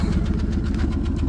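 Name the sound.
1974 Mercury Comet old Ford six-cylinder engine running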